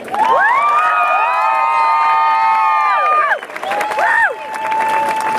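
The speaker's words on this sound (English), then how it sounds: "So join me in a round of applause as I introduce my good friend, Kelvin Arevalo." A crowd at an immigration reform rally erupts in sustained cheering, with overlapping high-pitched whoops and shouts under a roar of applause that dips briefly, then a second burst of whooping rises.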